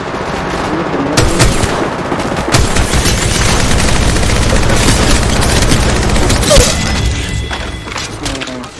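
Heavy gunfire in the video game Caustic, loud overlapping bursts of automatic shots and sharp reports continuing through the whole stretch, with occasional impacts and faint voices mixed in.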